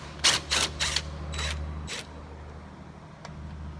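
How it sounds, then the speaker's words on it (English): 10mm socket ratchet backing a bolt out of a Honda Odyssey front door handle, giving four or five quick, close ratcheting bursts over a low steady hum, then fading to quiet. "inside there is a bolt, and use a 10mm socket to get it out."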